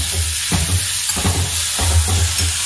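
Small chopped onions sizzling in a hot pan for a raw banana curry, a steady frying hiss with close stirring scrapes that come in a slow rhythm, roughly every second.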